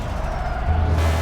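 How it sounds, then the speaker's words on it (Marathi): A vintage car's engine in a video game, a steady low rumbling drone that swells a little louder partway through, with no voices over it. "ही गाडी पण मला खूप आवडते विंटेज मध्ये"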